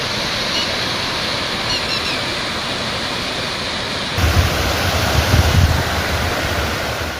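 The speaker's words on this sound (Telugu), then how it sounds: "వనదుర్గ ఆనకట్ట వద్ద వరద ఉధృతంగా ప్రవహిస్తోంది" Floodwater released from the Singur dam roars at the Vanadurga dam near the Edupayala temple in Medak district, Telangana, during heavy rains: a loud, steady rushing that swells and deepens after about four seconds.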